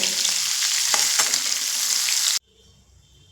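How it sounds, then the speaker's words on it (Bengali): Shrimp sizzle and crackle in hot oil with a loud, dense hiss and occasional stirring scrapes, then the sound cuts off abruptly to near silence. "দেখুন চিংড়ে মাছ আমার ভাজা হয়ে গেছে"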